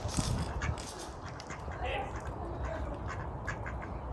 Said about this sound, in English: The ducks are in the back garden.